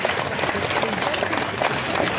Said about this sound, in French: Messieurs, applaudissements pour ces deux sportifs de haut niveau.